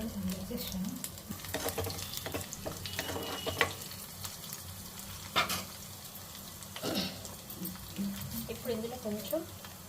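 Garlic, dried red chillies and salt fry in oil with cumin and mustard seeds, giving a constant low sizzle and scattered stirring clicks. A voice talks over the cooking throughout.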